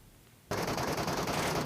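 Sustained automatic gunfire from PUBG Mobile's Metro Royale mode, starting abruptly after a quiet half-second and continuing as a loud, dense burst with no talk over it.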